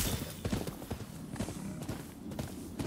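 Horse hooves galloping in the video game Rise of the Ronin, a fairly faint, continuous rhythmic clip-clop with a low rumble throughout, no talk.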